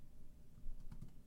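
Fingers tap on a computer keyboard while text is entered into a graphics layer, a few quiet, quick keystrokes clustered near the end over soft room hum.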